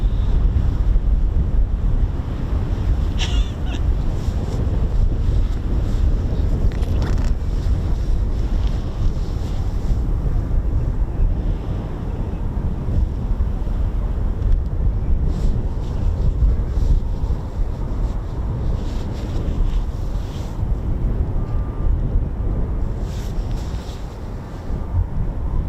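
Strong wind at an RAF airfield batters the microphone in a constant loud low roar, with faint occasional knocks beneath it and no talk.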